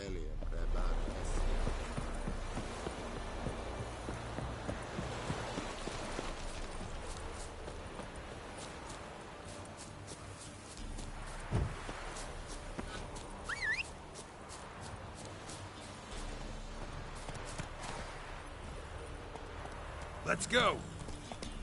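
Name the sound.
horse Roach galloping in video game The Witcher 3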